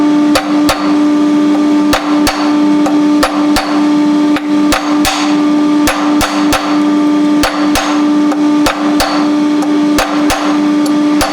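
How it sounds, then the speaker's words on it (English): A lighter hammer forging the point of a medieval arrowhead, held in tongs at the anvil edge: loud, sharp metallic strikes in a quick irregular rhythm over a steady ringing tone, close by, with no talking. "We use the lighter hammer and we're going to draw the point out."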